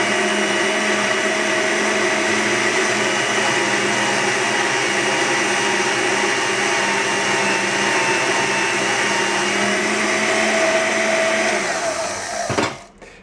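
A hand-held band saw mounted as a bench-top machine cuts through metal with a loud, steady motor whine and blade hum that holds throughout, then winds down abruptly at the end.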